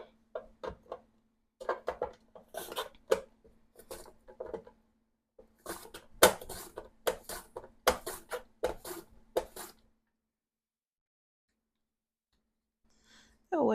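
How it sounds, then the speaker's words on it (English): A knife slices potatoes on a cutting board in uneven bursts of crisp, close taps and clicks over a faint steady hum, then falls silent before a brief voice at the very end. "Next thing we're going to do is cut the potatoes."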